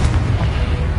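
The Confringo fire spell bursts in a deep booming explosion during a Hogwarts Legacy fight, with a loud low rumble that sustains throughout.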